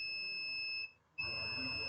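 A multimeter in continuity mode beeps while its probes test a laptop power switch on an Acer TravelMate P253, giving a steady tone that cuts out briefly and resumes as the button is released and pressed again.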